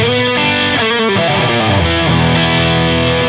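Distorted electric guitar playing chords and riffs through a UAFX Lion '68 pedal recreating a 1968 Plexi Marshall amp, with the amp's wet reverb tail filling the space, continuous and fairly loud.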